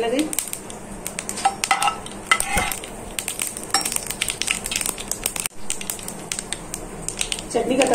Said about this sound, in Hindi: करी पत्ता, सरसों और लाल मिर्च का चटनी में तड़का लगाएंगे